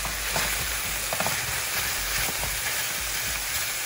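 Pork ribs brown in a hot frying pan for honey garlic ribs, giving a loud, steady crackling sizzle with small pops throughout, close and without talking.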